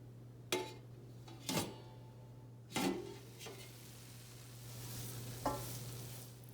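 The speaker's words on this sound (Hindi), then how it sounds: "ये दाल भी डाल लेते हैं। लो हीट पे कुकिंग करनी है।" Moong dal and spices cooking in a pan over low heat, with a few distinct scraping clinks of a stirring utensil over a soft, faint sizzle and a steady low hum.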